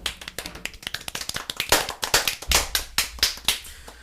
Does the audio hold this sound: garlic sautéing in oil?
no